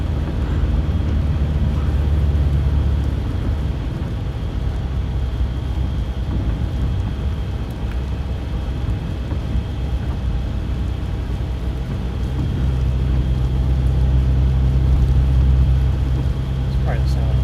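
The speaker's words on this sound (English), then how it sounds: "It's probably the sound of the truck." A storm chasing truck drives along a flooded road, with a steady low engine and road rumble filling the cab and broadband wind and rain noise throughout, while people talk inside.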